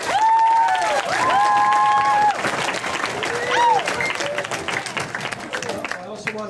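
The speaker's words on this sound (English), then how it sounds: "I want to give another round of applause for Brendan Magnan for doing a great job." A school assembly audience claps in applause, loud at first and then thinning into scattered claps, while bright whistle-like tones and a voice run over it.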